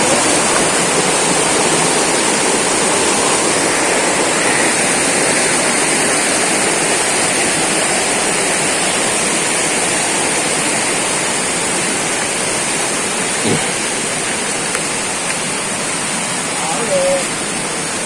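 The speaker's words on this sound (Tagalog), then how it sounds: "So itong tubig na to galing to sa bukal." Water from a spring rushes loudly and steadily along a trail in General Nakar, Quezon, a continuous broadband wash close by with no break.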